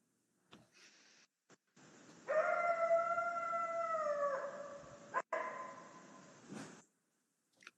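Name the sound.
coyote howl ending in a dog-like bark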